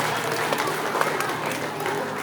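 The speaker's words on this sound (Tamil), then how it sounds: "டாக்டர் கிங்காங் அவர்களை எல்லோரின் பலத்த கைத்தட்டல் ஆரவாரத்துடன் வருக வருக என மகிழ்வோடு வரவேற்கின்றேன்" Steady applause from a crowd at a school annual day function, dense and continuous clapping at moderate volume with a few louder claps standing out, some voices mixed in.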